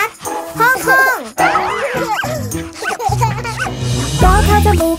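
In a Thai children's song, a sung voice imitates a little dog's bark with playful yips and bow-wows over a bouncy backing track.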